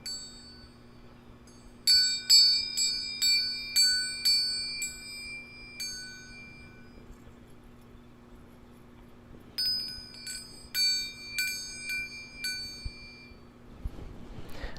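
A handmade wind chime rings in two runs of repeated metallic strikes, each bright tone sustaining and decaying, roughly one per half second. A steady low hum sits underneath, and a soft rustle comes near the end.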